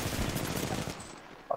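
Rapid automatic gunfire from a weapon in a video game, a dense, loud burst lasting about a second before it cuts off, leaving a quieter background.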